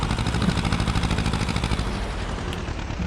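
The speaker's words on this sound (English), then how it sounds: "Nice little tractor." A small farm tractor's engine runs steadily close by, a loud, even rumble with a pulsing low throb that holds throughout and has no talk over it.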